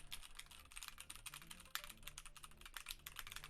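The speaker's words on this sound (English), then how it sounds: "So if I type on a keyboard," Rapid, continuous clatter of typing on a computer keyboard, close and crisp, with uneven bursts of keystrokes and no voices.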